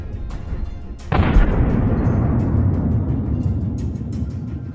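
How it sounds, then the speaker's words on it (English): Howitzer ammunition detonates after a drone strike, a sudden heavy boom that swells into a long rumbling roar and fills the remaining seconds, with sharper crackles and pops scattered through it, loud with no voices. "The strike causes an instantaneous detonation of the ammunition."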